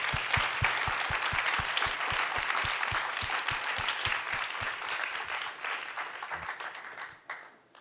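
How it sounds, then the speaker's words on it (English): Warm audience applause at a panel talk, a full crowd clapping steadily with a rhythmic thump of near claps, thinning and fading out toward the end. "A big round of applause."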